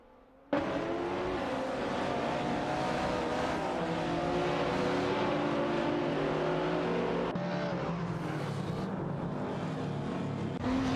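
Race car engines in a racing video game drone and whine steadily as cars overtake one another, a loud continuous layered roar with shifting pitches and no talk.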